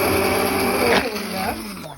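Blender motor whirring as it purees cooked red lentil soup in a Turkish home kitchen, a steady loud grinding hum that shifts pitch partway through, with a voice talking over it.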